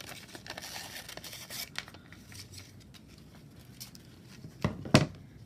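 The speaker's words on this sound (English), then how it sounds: "So I'm going to cut around the character first." Scissors snip around a printed character cut from a paper card for a pop-up craft, with quiet crinkling and rustling of the card and a louder pair of cuts and rustles near the end.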